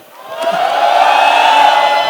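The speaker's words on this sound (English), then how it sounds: "Can we get a louder cheer for this panel?" A panel audience cheers: a swelling crowd roar with scattered whoops, building over the first half-second and holding loud and steady to the end.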